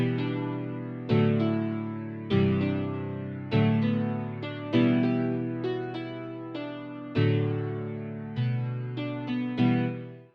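Sampled realistic piano plugin by Citrus with no EQ plays a repeating chord progression for a kwaito-style beat, steady struck chords about once a second, each ringing and decaying before the next, alone and upfront.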